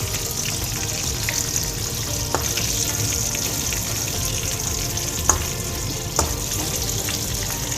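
Prawns or chicken frying in a pan give a dense, continuous sizzle close by, with a couple of short utensil taps and no voices.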